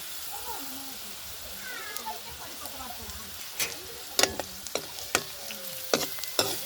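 Curry leaves dropped into hot tempering oil for a drumstick curry, giving a soft background sizzle with scattered sharp crackles and pops that grow louder and more frequent toward the end.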